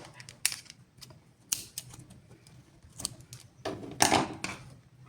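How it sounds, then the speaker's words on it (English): Scissors cut crochet yarn in a few crisp snips and clicks, spread irregularly with quiet pauses between, the loudest cluster near the end. "I'll chain 1 and cut off the yarn"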